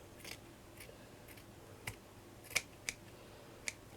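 Scissors cut straight across embroidered fabric, giving a few sharp, quiet snips spaced through a near-silent stretch with no one talking.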